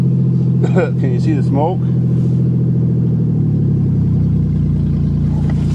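A Ford Taurus convertible engine cranks and catches in cold, deep snow, settling into a steady loud idle with some revving, while a voice speaks briefly over it early on.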